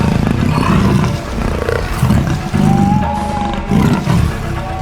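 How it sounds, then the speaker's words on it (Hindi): A tiger gives a loud, close roar in deep rumbling surges that swell and fade in a few rough waves, a throaty growl layered over the roar. "बाघ आ रहा है।"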